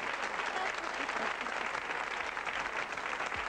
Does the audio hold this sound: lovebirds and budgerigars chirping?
no